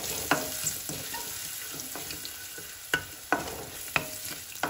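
Garlic cloves sizzle in a hot pan as they are stir-fried, a steady close crackle punctuated by several sharp scraping stirs of a spatula.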